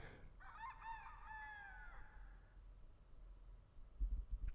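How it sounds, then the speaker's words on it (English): A rooster crows once in a backyard, a long rising-and-falling cock-a-doodle-doo that fills the first two seconds over steady outdoor hiss, followed by a few soft knocks near the end. "In the backyard, the rooster crowed in the morning."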